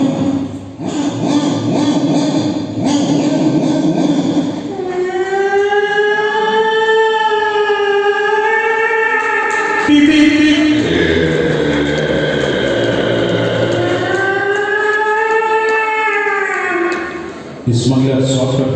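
A performer on stage imitates a police siren with the voice during a comedy skit, a loud, close wail that rises and falls repeatedly for over ten seconds after some noisy opening moments.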